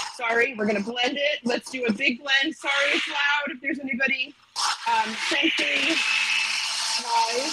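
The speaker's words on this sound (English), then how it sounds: "we're going to turn the blender on for a quick second" A blender whirs through a blueberry mixture, a loud steady drone with a higher whine running under and after a stretch of close talking.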